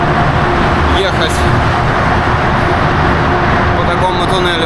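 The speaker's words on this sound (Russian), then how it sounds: "Вон эти фуры, эти машины носятся" Heavy trucks and cars rush through a road tunnel in Turkey, a loud, continuous roar of traffic that fills the space, with a voice talking over it.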